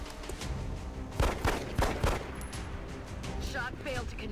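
Gunfire in the strategy video game XCOM: Enemy Unknown, a burst of several loud, punchy shots in quick succession followed by softer rattling effects and faint game sounds.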